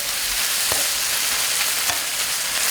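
Minced pork stir-frying over high heat in a pan gives a steady, loud, close sizzle with a couple of sharp clicks of the utensil against the pan.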